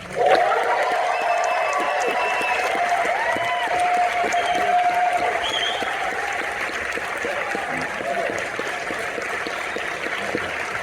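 Sustained applause from a large crowd at the Rebel Ridge movie premiere, dense clapping that holds steady for over ten seconds, with scattered cheers and voices mixed into the roar.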